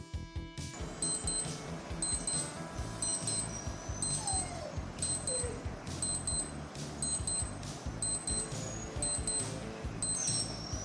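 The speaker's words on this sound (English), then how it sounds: "Just a simple, functional alarm that won't scare the life out of you, but also won't go completely unnoticed." A Skmei 2146 digital watch alarm gives short bursts of high electronic beeps repeating steadily about once a second, moderately loud over a low background hum.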